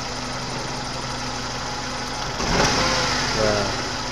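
A 1997 Suzuki Baleno engine with a misfire idles roughly and unevenly. After a couple of seconds the throttle is blipped, and the engine rises in a short stumbling rev before settling again.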